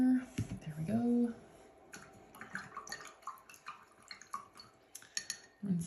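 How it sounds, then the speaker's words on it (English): A paintbrush is swished and tapped in a water cup, giving light splashes, clinks and drips, with a few brief louder knocks at the start and end. "Rinsing out my brush."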